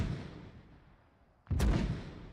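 Artillery fire in a Warlords Redux video game mission: a single sudden heavy boom rings out after a fading rumble, loud and close, with no talk.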